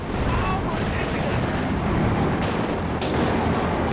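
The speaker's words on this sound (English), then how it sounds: "They had enough munitions for light artillery barrage." A light artillery barrage in the strategy game Company of Heroes 2 rumbles as dense, overlapping blasts and crackling impacts, loud and continuous, with a voice talking over it.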